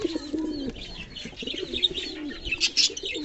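White fantail pigeons cooing in a breeding loft, with steady low, rolling coos from close by and brief chirps and wing flutters layered on top, no talking.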